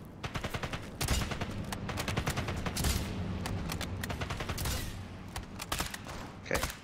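Rapid gunfire from the video game Sniper Elite 5 rings out as a dense, loud barrage of sharp shots that continues steadily for several seconds, close and without a break.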